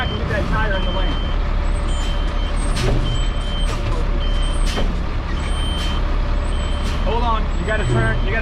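Semi truck reversing into an alley dock at a truck driving school, steady diesel rumble with repeated reversing beeps and sharp air brake hisses, voices talking nearby.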